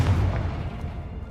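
A Confringo spell blast from Hogwarts Legacy: a close, heavy burst with a deep low boom that rolls and fades over a second or so, with no voices.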